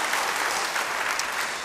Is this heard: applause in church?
yes